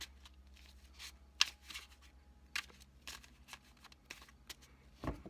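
Tarot cards being shuffled by hand, quiet papery riffles and soft flicks coming in irregular bursts, close and faint with no talking.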